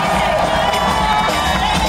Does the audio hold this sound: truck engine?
no